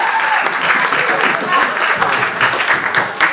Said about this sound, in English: You just had a round of applause.